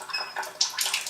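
Water running from the spout of a Chanson water ionizer, a close steady splashing stream with slight surges and bubbling, heard alone with no talking.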